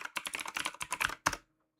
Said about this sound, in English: you may be able to hear me typing.